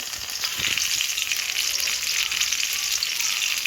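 Hot oil sizzles in a pan while drumstick leaf chutney is cooked. The hiss is continuous and moderately loud, with a few brief stirring clicks and no talking.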